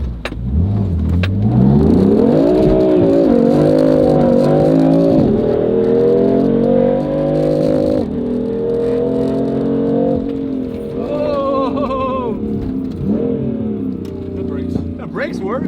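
A Lamborghini drives and accelerates, its engine rising and falling in pitch through several revs and shifts, loud and close throughout.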